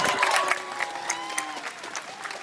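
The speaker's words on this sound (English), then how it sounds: "Give him a big round of applause." A crowd at a civil rights march and rally in Tuscaloosa, Alabama gives a former president of the coalition a round of applause, with brisk clapping and cheering voices, loudest at first and then thinning.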